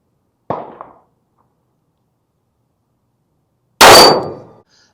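Two Ruger Max-9 9mm pistol shots ring out at a steel target about 20 yards away, each a sharp loud crack with a metallic clang, a short one first, then a louder, longer-ringing one after a gap of silence.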